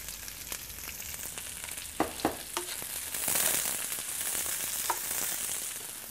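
Fresh chili and spring onion fry in a pan for Cantonese rice, giving a steady close sizzle that swells partway through, with a few sharp utensil clicks against the pan.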